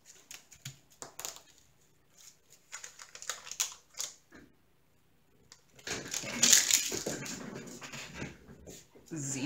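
Diamond painting rhinestone drills pour into a tray in bursts of dense rattling and clicking, with scattered taps and small clatters between pours and a louder, sustained rush near the end.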